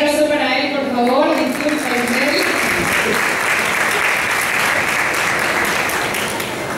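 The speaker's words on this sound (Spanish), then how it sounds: "Un aplauso para él, por favor" An audience at a Venezuelan mini miss and mister models pageant breaks into loud, sustained applause for the choreographer, which starts under a host's voice and then continues on its own.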